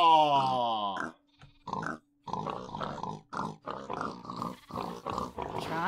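A pig in Minecraft's TerraFirmaCraft mod grunts repeatedly. A drawn-out, squealing snort opens the sequence, then a steady run of short, close, rhythmic grunts follows, separated by brief pauses.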